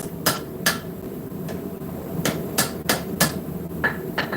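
Metal held in a post leg vise is struck by a hammer at a forge, giving about a dozen sharp ringing blows at an irregular, unhurried pace against a low background hum, with no talking.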